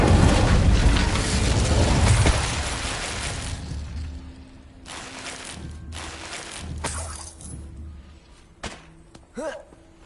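An Incendio fire spell cast in the Hogwarts Legacy video game: a loud, roaring whoosh of flame for about two seconds that fades into softer crackling, followed by a few short magical chimes and pops.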